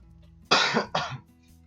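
Two quick, harsh coughs close to the microphone, one after another, then quiet.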